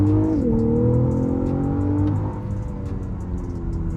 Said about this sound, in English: Lexus actually pipes in an artificial sound that gives you the feeling that you're driving a sports sedan